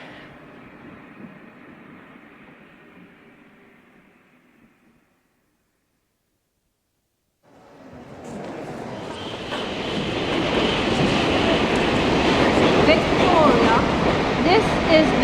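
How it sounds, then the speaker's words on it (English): The boat train from Dover pulls into a platform at London's Victoria station: a faint rumble gives way to a silent gap, then a loud, rushing roar of rolling carriages builds and stays close. "The train arriving at platform 5 is the boat train from Dover."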